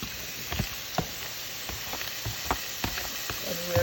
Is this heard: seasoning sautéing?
yes